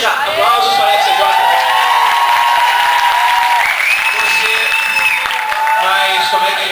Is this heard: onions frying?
no